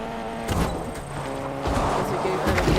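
A car in the Fortnite video game drives off-road, its engine droning steadily with bumps and rattles from the rough terrain, while a player talks over it.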